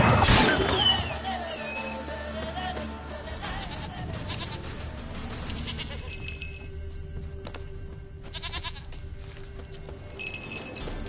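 A goat bleats several times in The Witcher 3 video game, with nasal calls standing out over low outdoor ambience and soft game music.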